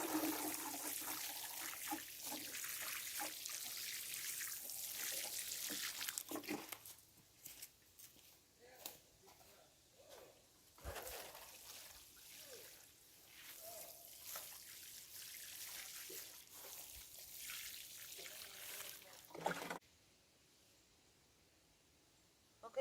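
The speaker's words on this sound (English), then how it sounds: "I'm just going to pour some water on them" Water poured onto moist soil around sweet potato plants splashes and trickles steadily for several seconds, then thins into softer dribbling and drips before stopping near the end.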